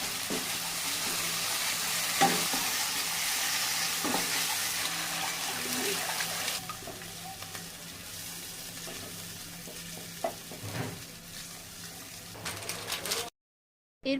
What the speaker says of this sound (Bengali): এরপর আমরা কড়াই ফুটন্ত গ্রেভির মধ্যে পুর ভরা পটলগুলোকে ধীরে ধীরে ছেড়ে দিলাম।